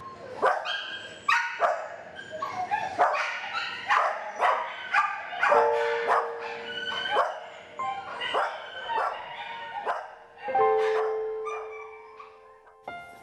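An abandoned stray dog from Bukhansan mountain barks and yips repeatedly at close range, in uneven bursts with whimpering, high-pitched cries between them, and no voices.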